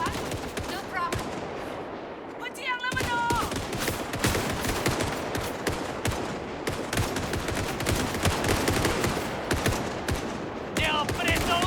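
Rapid bursts of gunfire from the video game Indiana Jones and the Great Circle, dense and continuous with sharp repeated shots throughout, mixed with game sound effects and occasional background voices.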